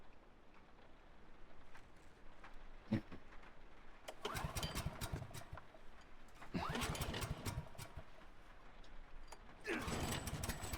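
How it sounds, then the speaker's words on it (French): A generator's engine in the video game The Last of Us coughs through a few start attempts, each a rough burst of mechanical clatter, before catching and rattling on, moderately close. "pour le démarrer, le groupe électrogène"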